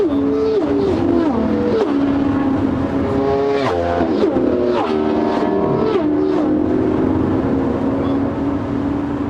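An Audi A4 Cabriolet B7 2.0 TDI with Multitronic gearbox driving on a road, its engine droning loud and steady from inside the car as the pitch rises and falls with speed, under constant road and wind noise.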